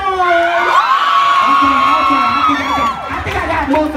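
A live crowd roars with cheers, whoops and long drawn-out yells, loud and continuous, with individual voices shouting over the mass of noise.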